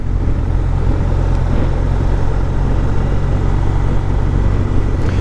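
Steady, loud engine and road rumble from a motorcycle held below the national speed limit behind a heavy goods vehicle, a continuous drone with wind noise and no pauses.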